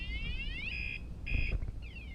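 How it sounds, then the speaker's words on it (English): An electronic alarm beeps in repeated rising chirps and steady tones, fairly loud and close, with faint street noise beneath during a New York City bike ride. "Did I even stop the alarm?"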